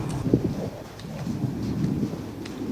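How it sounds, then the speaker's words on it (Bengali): Low rumbling thunder rolls under a steady patter of rain in Saudi Arabia, with faint scattered drops and no voices. "আবার বৃষ্টি চলে আসছে।"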